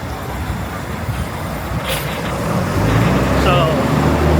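Street traffic in Panama City, with a steady roadway rumble of trucks, buses and cars passing close by, growing slightly louder toward the end with a brief air-brake hiss.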